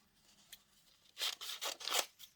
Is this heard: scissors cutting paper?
yes